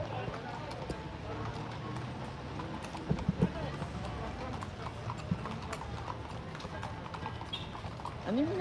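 A horse's hooves clip-clop at a busy outdoor rally in Baguio, a few clear strikes rising briefly over a dense murmur of crowd chatter and voices.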